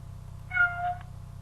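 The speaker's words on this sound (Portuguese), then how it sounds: "O miado do gato." A single short cat meow, clear and close, rising then falling over a low steady hum.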